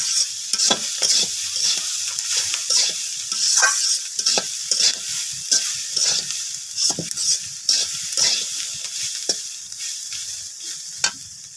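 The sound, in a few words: frying vegetable bhaji with turmeric in a pan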